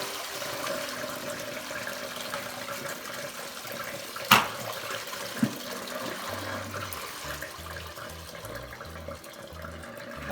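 Water drains out of a cooler that held a turkey in ice brine, a faint, steady trickle with a sharp knock and a few small bumps partway through.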